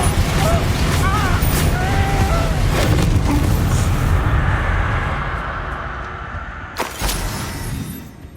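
Bombarda blasting spell in Hogwarts Legacy, a loud, sustained booming blast that rumbles and gradually fades, with a sharp crack near the end.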